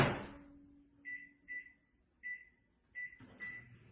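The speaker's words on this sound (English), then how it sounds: "now I'm going to put this in the microwave for 1 minute" A kitchen microwave heats a sugar mixture, a faint hum under a series of short electronic beeps sounding in uneven succession, followed by a brief clatter near the end.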